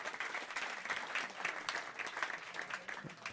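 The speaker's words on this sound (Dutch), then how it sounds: "Geef ze even een hartelijk applaus" Audience at a Frisian election debate gives a warm round of applause, dense steady clapping from a crowd in a hall, moderately loud and continuous without talk.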